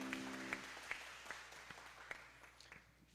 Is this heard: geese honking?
no